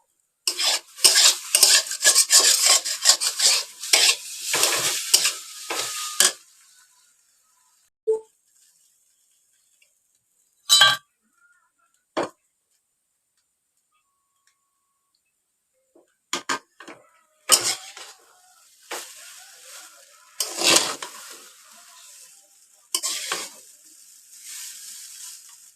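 Egg and chowmein cook in a small pan, with a spatula stirring and scraping in rapid clattering bursts over faint sizzling, then long silent pauses broken by sharp isolated scrapes and clinks.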